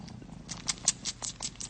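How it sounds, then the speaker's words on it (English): Pet cat purring up close, a soft rough rhythmic rumble pulsing several times a second, quiet and alone with no talk. "I got a cat"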